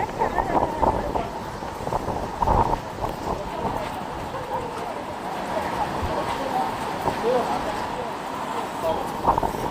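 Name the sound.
wind blowing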